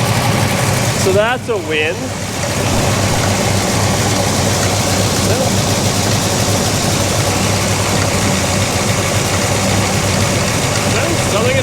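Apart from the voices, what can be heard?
big block Chevy engine idling in a Pontiac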